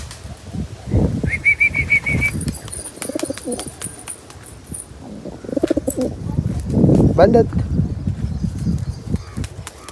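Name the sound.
pigeons cooing and flapping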